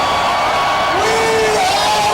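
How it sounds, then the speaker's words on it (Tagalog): A crowd of Iglesia ni Cristo members at an overnight vigil on EDSA Shaw shouts together, a loud, sustained mass of voices with rising yells over a constant roar. "Yan ang gigil na sigaw ng mga nagvi-vigil na miyembro ng Iglesia ni Cristo nitong magdamag"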